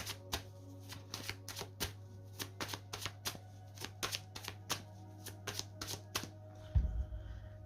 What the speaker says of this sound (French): Je vais poser les cartes.